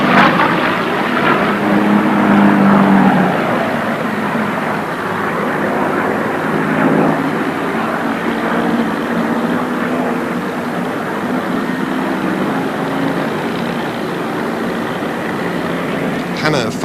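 A vintage warplane in desert markings with shark's teeth on the nose cowling flies a display at the Biggin Hill airshow, its engine droning steadily at moderate distance beneath continuous commentary.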